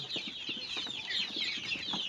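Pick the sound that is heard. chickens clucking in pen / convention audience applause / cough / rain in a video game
chickens clucking in pen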